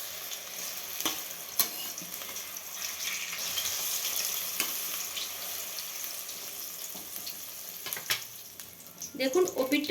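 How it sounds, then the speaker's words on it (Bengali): Eggplant pieces frying in oil for achari begun, a steady broad sizzle throughout with occasional utensil knocks and a burst of stirring clatter at the end. "দেখুন, এক পাশ ফ্রাই হয়ে গেছে। এটাকে এবার ঘুরিয়ে দেব।"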